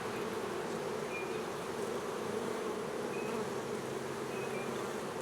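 Honey bees in a hive, a possible drone-layer colony with queen cells, hum in a constant, even drone that stays close and steady throughout with no voices.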